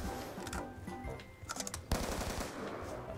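Automatic weapon fire in Call of Duty Black Ops 2 party games, fairly quiet rapid bursts of shots with scattered sharper cracks and one louder burst near the end.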